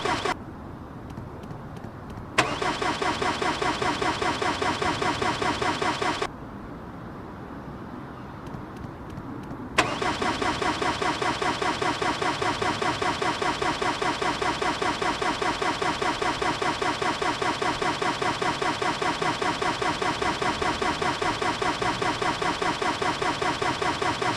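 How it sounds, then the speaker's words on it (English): A classic convertible's engine cranks repeatedly and fails to start. The starter whirs in long, steady rhythmic bursts with short pauses between attempts, loud and close. "I pulled the car out to get some tables and chairs for dinner and it isn't starting"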